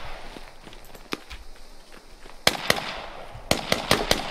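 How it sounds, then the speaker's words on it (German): Sharp explosive blasts in the tactical shooter Squad, one of them a land mine set off by a soldier stepping on it: a few isolated cracks, then a loud burst and a quick series of loud booms, with faint footsteps between them. "Er ist scheinbar eine Mine getreten."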